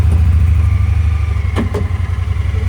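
A Honda Pioneer 1000 side-by-side idles steadily with a deep, loud low rumble, and a couple of brief clicks or clunks sound partway through.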